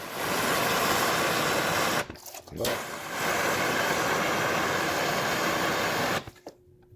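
A plastic welder tack-welding a cracked car bumper gives off a loud, continuous hiss that cuts out briefly around the two-second mark, resumes, then stops abruptly near the end.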